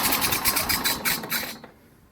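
Rapid ratcheting whir of a recoil starter cord yanked on a small engine with the choke on, a quick burst of rhythmic pulses lasting about a second and a half before cutting off to near silence.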